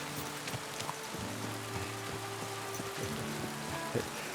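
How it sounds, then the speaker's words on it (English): Steady rain falls in the video game Kingdom Come: Deliverance, a faint, even patter and hiss with no talking over it. "Ooh, rain, yeah, I thought that sounded like rain."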